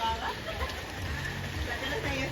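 Steady rain hisses throughout in Batangas, with faint voices of people bathing in the rain mixed into the wash of falling water.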